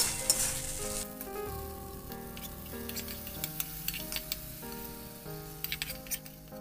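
Spice paste mixed with yogurt sizzles steadily in a hot wok for a Bengali baingan bharta, with a soft frying hiss and scattered ticks under fairly loud music throughout.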